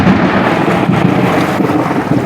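Thunder rolls after a lightning strike over water where a kayak with a 12-foot outrigger and deck is being paddled: a steady, loud, broadband rumble with wind buffeting the microphone, no distinct cracks, and no one talking.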